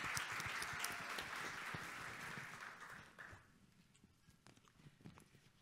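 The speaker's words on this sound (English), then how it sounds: "Round of applause for her, please." A conference audience applauds a senior research associate from the Harvard T.H. Chan School of Public Health, with dense, steady clapping that stays fairly loud for about three seconds and then thins out to scattered claps.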